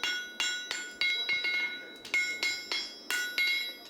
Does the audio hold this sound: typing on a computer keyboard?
no